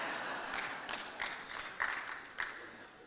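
Audience at a conference clapping in short scattered bursts, several distinct claps and brief rounds standing out over a steady room murmur, fairly distant and moderate in level.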